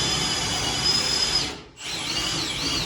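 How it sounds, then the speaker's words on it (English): A power drill boring through material on a plumbing job, running loud and steady up close with a brief drop in speed partway through before revving back up, no voices. "you're running your drill crooked again."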